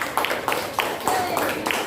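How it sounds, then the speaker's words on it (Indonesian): A classroom of students claps for a classmate, with rhythmic, fairly loud applause filling the whole stretch and voices mixed in underneath. "tepuk tangan untuk Sarah."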